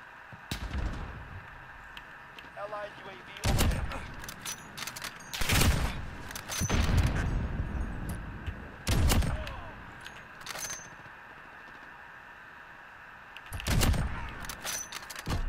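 Repeated bursts of Harrier jet cannon fire strafing in Call of Duty: Modern Warfare, several loud broadband volleys spaced a few seconds apart over a continuous in-game rumble.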